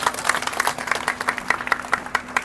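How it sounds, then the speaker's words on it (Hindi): An audience at a public speech in Azamgarh breaks into sustained applause, many hands clapping in a dense, moderately distant patter with a steady low hum underneath. "इसके लिए आपको ताली देना चाहिए उनको"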